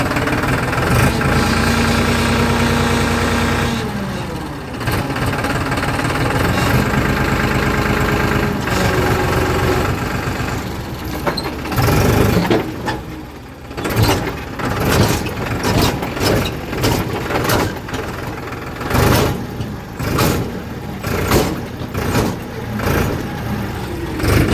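A farm tractor hauling manure around a village runs steadily close by, its engine droning and idling without a break, with heavier clattering bursts in the second half.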